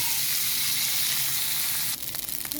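Leftover rice tipped into a pan of golden fried garlic sizzles with a steady, loud bright hiss of hot oil, broken near the end by a few quick scraping stirs.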